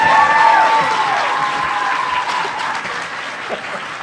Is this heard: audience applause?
yes